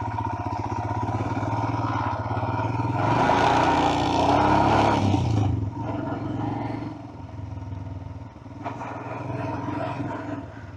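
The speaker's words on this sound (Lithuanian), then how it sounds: "keturratininkas, tenais jau su rimtesniu, tai nurūko kaip reikalas" A quad bike (ATV) speeds away with a loud, rising engine roar that builds and then fades. It is heard from a Royal Enfield Himalayan 411 motorcycle, whose own engine hums steadily underneath.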